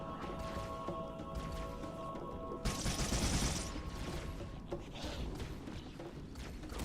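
Gunfire in the Halo video game, a burst of rapid automatic shots and thuds over a low game ambience, fairly quiet overall with one louder flurry partway through.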